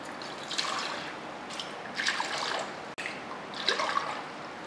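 Water poured into a pressure cooker of soaked pearl millet, a soft splashing trickle that comes in a few uneven surges with a brief break partway through, fairly quiet and close.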